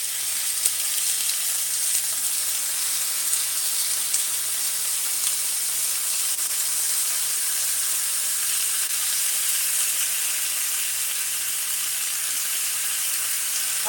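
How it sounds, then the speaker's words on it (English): Food sizzles steadily in hot oil in a pan as it browns and caramelizes, a constant close, bright frying hiss with no pauses and no voices. "let that brown up, caramelize up"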